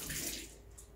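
Steam wand purge on a Breville Oracle BES980 espresso machine: a short, fairly quiet burst of hissing, watery rushing steam lasting about a second.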